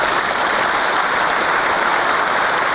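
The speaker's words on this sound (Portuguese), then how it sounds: "Peço que os irmãos recebam uma salva de palmas" An audience at a Masonic lodge session for a lecture by General Mourão gives a sustained round of applause, dense continuous clapping at an even level with no talk over it.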